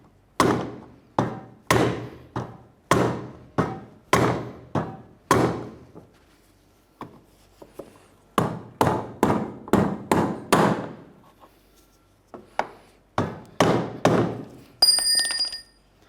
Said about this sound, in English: We'll use a hammer and a brass punch to drive it in.